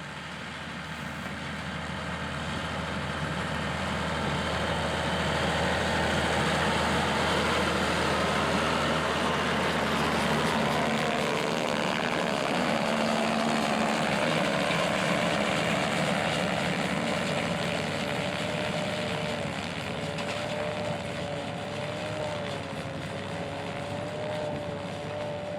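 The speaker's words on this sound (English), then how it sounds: "I wanted to get a close-up of it as it merged the hay just ahead of the Krone Big X V12." A Krone Big X V12 self-propelled forage harvester works a hay field with a hay merger just ahead, giving a steady, loud engine drone throughout, a deep low rumble easing partway through and a rising whine emerging later.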